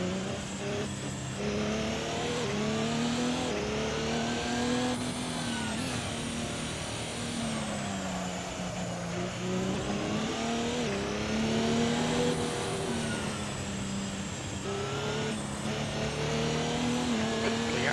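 Race car engine in a racing video game, revving hard and shifting through gears in rising and falling sweeps during a quick lap, loud and continuous throughout.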